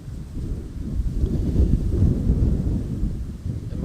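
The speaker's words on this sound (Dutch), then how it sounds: "Maar die wind is ook wel echt pittig hoor." Strong gusty wind buffets the microphone outdoors at Amsterdam Schiphol Airport, a low rumbling roar that swells and eases over a few seconds with no speech.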